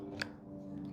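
Milwaukee MT500C linesman pliers cutting through solid Romex electrical cable, a single short crisp snip over steady low background hum.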